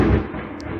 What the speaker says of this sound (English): That is a thunder.